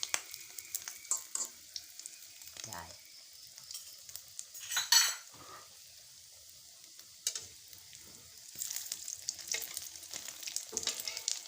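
Egg-dipped khanom kheng frying in a pan crackles in bursts, with a sharp clatter of a utensil against the pan midway and a renewed hissing sizzle toward the end, otherwise fairly quiet.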